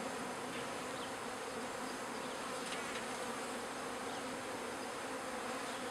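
A steady, dense buzzing of many honeybees, continuous and fairly close, with no voices.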